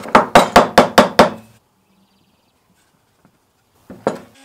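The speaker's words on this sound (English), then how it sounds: "driving them in through the sides of the head into the handle" Six rapid, evenly spaced hammer strikes ring out close up as wooden dowels are driven through a mallet head into its handle, then a pause and one more knock near the end.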